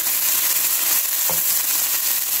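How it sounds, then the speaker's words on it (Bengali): Canned tuna fries in its own oil in a frying pan, a loud, dense and even sizzle with one brief knock partway through. "দেন আমি টুনা ফিশটা ভেজে নেব"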